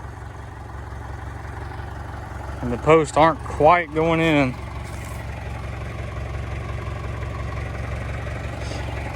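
A tractor engine idles steadily and fairly close through the whole stretch during homestead gate post installation, with someone briefly talking over it.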